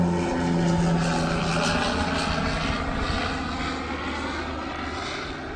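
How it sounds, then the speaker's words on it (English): A Twin Otter skydiving jump plane flying with its door off drones loudly and steadily overhead, the propeller hum fading slightly as it passes, with no talk. "Oh, he's on his way back in the land again."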